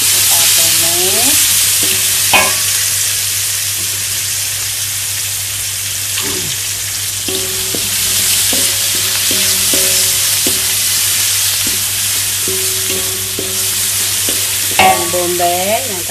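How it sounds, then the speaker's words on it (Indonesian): Chilies and galangal stir-fried in a pan for a spicy beef dish, a steady close sizzle and crackle of frying with repeated scraping strokes of a spatula throughout, and no voices. "Kita tumis."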